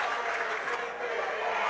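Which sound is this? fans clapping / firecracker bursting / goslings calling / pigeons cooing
fans clapping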